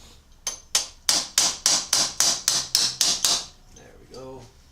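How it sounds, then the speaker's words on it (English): A hammer taps a part of a Braum Falcon X seat into place with about ten sharp, evenly spaced close strikes, followed by a brief softer rattle. "I am going to tap it in there with a hammer"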